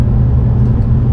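A 2024 Lotus Emira sports car with hydraulic steering drives along, heard as a steady, loud low engine and road rumble from inside the cabin, brief and unbroken with no talking.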